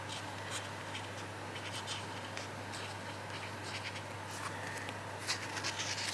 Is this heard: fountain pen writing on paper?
yes